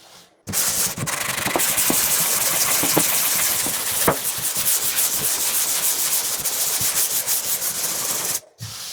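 Hand sanding of dried joint compound on drywall produces a loud, close, continuous scratchy rub that runs for several seconds in back-and-forth strokes, with no speech.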